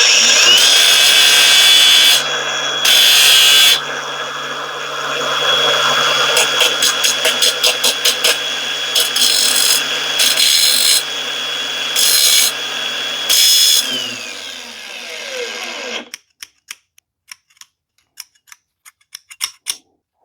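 A spinning power tool blade grinds against steel Knipex pliers in a series of loud, harsh bursts, some short and stuttering, then the motor winds down into scattered clicks and taps.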